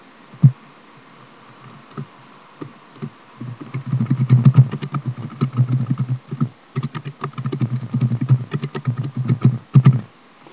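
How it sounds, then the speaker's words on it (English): Computer keyboard typing close by, with quick irregular clicks and clacks that build into a steady run of keystrokes after a few scattered taps, no voices. "just type something about yourself"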